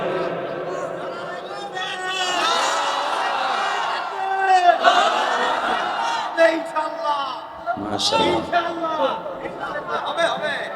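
A crowd at an Islamic sermon gathering raises chanted takbir shouts, swelling voices in unison mixed with chatter, heard at moderate distance with a speaker's voice over them.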